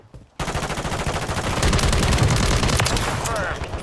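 Loud, sustained rapid gunfire from the Warzone video game erupts after a brief quiet moment and keeps going as a dense barrage of overlapping shots until the end.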